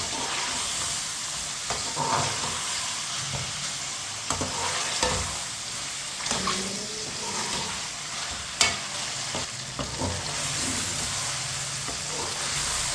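Chicken pieces for chicken karela sizzle and fry steadily in a pan, with a spoon scraping and stirring through them in repeated clinks; a continuous close hiss runs throughout with no talking.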